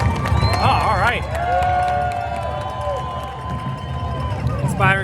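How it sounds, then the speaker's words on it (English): Crowd of spectators clapping and cheering for runners at the New York City Marathon, a steady roar of applause and shouts with whistles, close and loud, people talking over it. "We're clapping for somebody."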